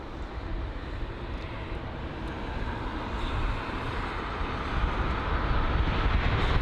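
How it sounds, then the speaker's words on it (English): Brussels Airlines Airbus A320-200 airliner in Belgian Icon livery at London Heathrow, a steady broadband jet roar that builds gradually over several seconds, moderately loud and continuous with no talk. "So that there is the Brussels Airlines A320-200 heading to Brussels"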